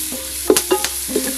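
Carrots sautéing in a frying pan for a simple African village meal, stirred with a few short scraping strokes over a faint, steady sizzle, close by with no talk.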